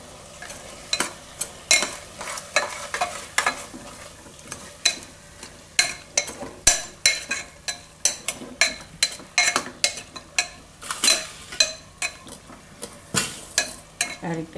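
Cluster beans being stirred in a pan for a Gujarati guvar and soya chunk curry, giving a steady run of scraping, clinking strokes at close range over a faint sizzle, with no talking.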